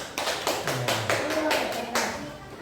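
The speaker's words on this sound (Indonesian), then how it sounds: "Kasih tepuk tangan untuk kelompok 3." A classroom gives a brief round of clapping for a student group, about eight distinct claps in an uneven rhythm, moderately close, with a voice talking over them.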